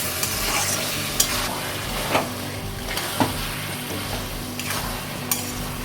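Cabbage frying in a pan with garam masala, for a cabbage dish cooked with rohu fish head, sizzles steadily while a spoon stirs and scrapes through it in occasional sharp knocks, close and clear with no talking.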